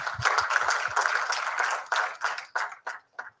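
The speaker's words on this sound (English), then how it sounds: "Let's give them a warm round of applause again." An audience claps to welcome panelists and moderators onto the stage at an inauguration ceremony, a close burst of steady applause that thins to a few scattered last claps.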